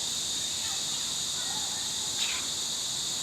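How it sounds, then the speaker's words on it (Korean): Cicadas drone near a bench outside an apartment building, a continuous high shrill buzz that stays steady and moderately loud, with a few faint background sounds beneath it. "아파트 벤치에 잠시 앉아 매미 소리를 담아봅니다."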